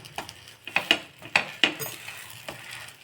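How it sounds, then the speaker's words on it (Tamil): A stuffed radish paratha cooks on a griddle as it is turned over and over, with soft sizzling broken by several distinct scraping and tapping strokes in an uneven rhythm, close up and without speech. "இந்த மாதிரி நல்லா திருப்பி திருப்பி விட்டு வேக வச்சுக்கலாம்"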